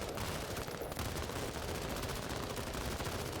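A unit firing weapons in the video game Menace: dense, continuous rapid gunfire with overlapping shots at high volume throughout, no voices.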